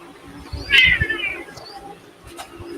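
A house cat gives one clear, fairly close meow, rising and falling over about half a second, amid faint background rustling and a quieter second call later.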